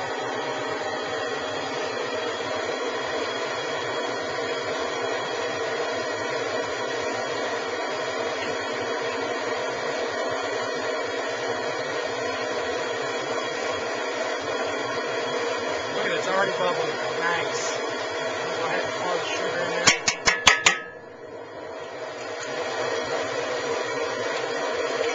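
A kettle corn popcorn machine runs with a steady, loud whooshing roar and motor hum throughout, then a quick burst of metallic clanks near the end before the roar settles back.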